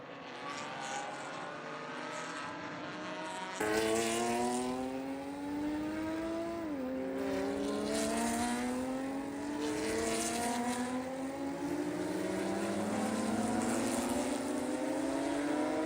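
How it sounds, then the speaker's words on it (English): Porsche Spec Boxster race cars run on the Circuit of the Americas track at a club race, engines droning and rising through gears as several cars pass, a steady, fairly loud layered roar. "Right now, Brian, Spec Boxster running, looking at it, probably about 12 cars deep at the moment."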